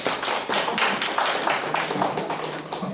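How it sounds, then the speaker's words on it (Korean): A church congregation at a prayer meeting claps together in a brief, rhythmic burst of fairly close, steady beats lasting about three seconds, with no speech over it. "자, 박수하겠습니다."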